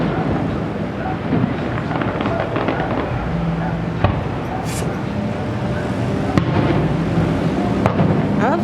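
Canada Day fireworks over Toronto Harbour: several sharp booms burst out and echo off nearby buildings over a continuous rumbling crackle, with crowd voices murmuring throughout.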